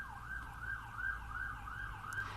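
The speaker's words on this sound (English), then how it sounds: "I apologize if you can hear the sirens out my window" A wailing city siren heard through a window rises and falls steadily, muffled and somewhat distant, over low traffic rumble.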